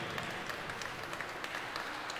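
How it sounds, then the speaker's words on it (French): A small church gathering applauds after a short gospel reading, a steady wash of clapping heard fairly faintly for a couple of seconds. "Oui, on peut s'applaudir,"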